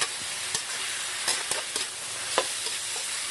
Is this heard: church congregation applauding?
no